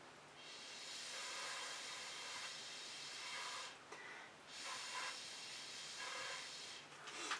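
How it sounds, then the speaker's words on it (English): Breath blown hard at fluid acrylic paint on a canvas, making close, breathy hissing gusts in several long bursts separated by short pauses, with no talking. "I'm going to blow into this, I think."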